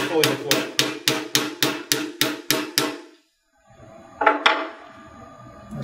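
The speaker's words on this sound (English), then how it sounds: "You keep hammering until you are fully deployed." A hammer strikes a strike cap on a Sawbone bone implant in about nine quick, evenly spaced metallic taps, then a short pause and a couple more hits amid quiet background noise.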